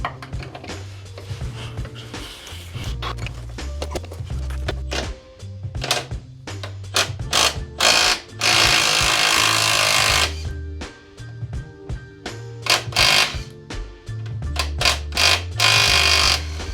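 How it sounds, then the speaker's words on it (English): An impact tool removes the nuts and bolts from a car's front control arm on a budget hot hatch track build. It fires repeated loud rattling bursts with short pauses between them, then sustains a longer hammering run. "the next couple of jobs is to remove the nuts and bolts again"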